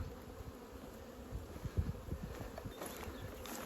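A steady buzzing drone of many bees, close by and continuous, with a few soft knocks and bumps around the hive.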